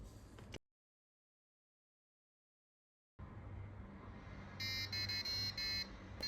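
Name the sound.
Arduino alarm clock buzzer going off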